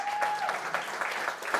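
An audience claps in a short, steady burst of applause, fairly close, with a faint tonal whistle running underneath at the start.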